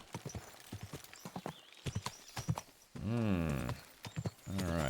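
Horse hooves clip-clopping in Kingdom Come: Deliverance II, a steady run of close, crisp hoofbeats broken by a loud, drawn-out horse whinny, then more hoofbeats.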